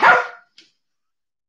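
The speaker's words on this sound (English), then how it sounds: "I'll stare at him and he'll start barking." A dog barks once sharply and close, then a tiny faint yip follows, and a short clipped bark-like sound ends the moment in an otherwise quiet room.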